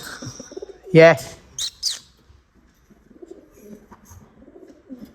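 Pigeons coo and flutter nearby in short bursts, with a person speaking quietly in between.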